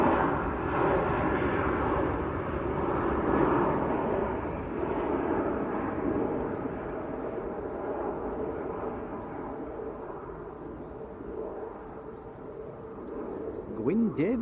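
A Ryanair jet departs Manchester Airport for Dublin, a broad, steady engine roar that slowly fades, with a person talking over it.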